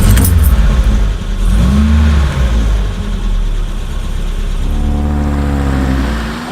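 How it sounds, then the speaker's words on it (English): A 1973 BMW 2002 car engine runs loud and steady while driving, with rising and falling revs as it accelerates, a continuous close mechanical drone throughout. "I'm driving a 1973 BMW 2002."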